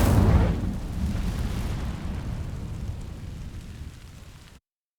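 A fiery spell ignites dry vines in a fantasy video game, a loud whooshing burst of flame that flares up and then roars and crackles as it slowly fades before cutting off.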